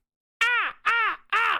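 Crows caw three times in quick succession, each call loud, harsh and close, with short silent gaps between them.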